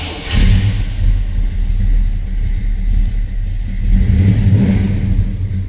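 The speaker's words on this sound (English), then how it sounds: "Let's fire this up so you can hear it run." A 1967 Chevrolet Bel Air fires up and settles into a loud, steady low rumble, with a rev swell at the start and again near the end, and no talking.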